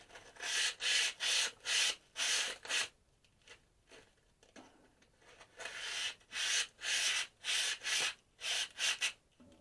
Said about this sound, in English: let's just give this a good old polishing, huh?